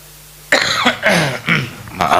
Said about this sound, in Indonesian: Batuk dikit, air naik